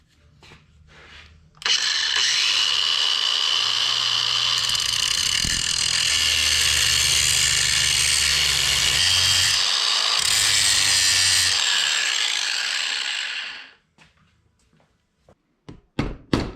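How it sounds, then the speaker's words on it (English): An angle grinder cutting through the chain pins of a Polaris RZR 200 drive chain, a loud, sustained high whine and grinding for about twelve seconds, with a few metallic clicks and taps before and after. "I got to grind both of these off so I can separate this chain"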